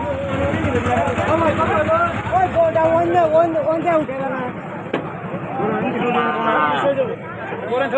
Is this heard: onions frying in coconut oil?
no